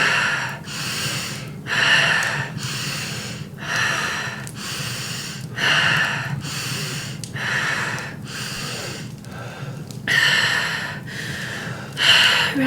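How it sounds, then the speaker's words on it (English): Deep, full breaths drawn in a breathwork exercise, about ten rhythmic cycles of strong, close inhales and exhales with a steady low background hum. "Deepest and fullest breaths yet."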